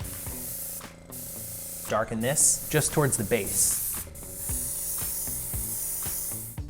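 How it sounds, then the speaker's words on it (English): A steady airbrush hiss of orange food color sprayed onto a cake runs under a man's speech, pausing briefly, then spraying continuously and close by. "what it actually does need is just a little bit of airbrush, and I'll take some orange spray color"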